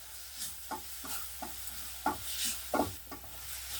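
Tomatoes sautéing in a pan with salt and turmeric for a curry, giving a soft, steady sizzle broken by a few scraping stirs of a spoon. The sound is quiet and close, with no talking.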